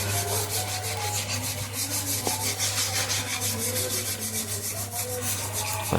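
Sandpaper rubs a car bumper surface in quick, rhythmic back-and-forth strokes, close and continuous, roughing it up before body filler is applied.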